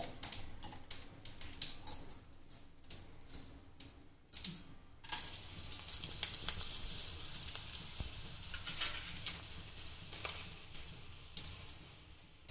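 Garam masala and cumin seeds frying in hot oil for an egg curry, a steady close sizzle with crackling pops running throughout, sharper spattering bursts early on, no talking.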